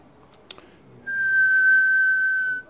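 A voice imitates a whistling kettle, one steady high whistle held for about a second and a half after a short click, close and fairly loud.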